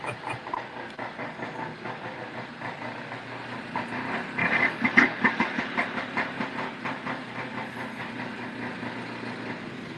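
A vintage snowmobile engine idles with a rhythmic chugging pulse, steady at first, then swelling louder with quicker beats midway before settling back to an even running note.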